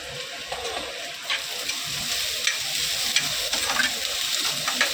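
Fenugreek greens with dal and chickpeas stirred in a hot pan: steady sizzling and frying with scraping spoon strokes against the pan, close and continuous, no talking.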